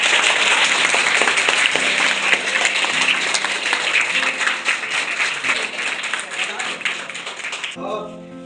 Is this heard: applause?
yes